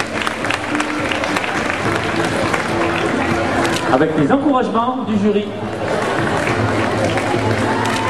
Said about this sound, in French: On applaudit aussi, on peut les applaudir toutes.